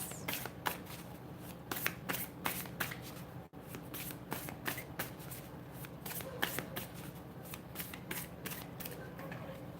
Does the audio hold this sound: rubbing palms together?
no